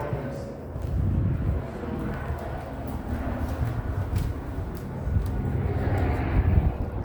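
A helicopter flies overhead, a low steady engine drone that swells slightly toward the end, moderately distant and with no voices over it.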